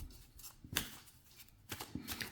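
Tarot cards shuffled by hand, a few soft riffling and sliding bursts with brief clicks, close and fairly quiet, no talking.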